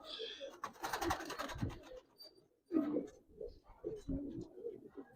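Giribaz and coloured pigeons at a pigeon sale cooing softly and rustling close by, with wing flutters and scratching, under intermittent conversation.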